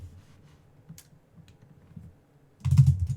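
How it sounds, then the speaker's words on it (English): Typing on a computer keyboard during a law livestream, scattered soft clicks and taps that burst into a loud, rapid flurry of keystrokes near the end, close to the microphone with no talking. "my keyboard probably sounds like the thundering of elephants"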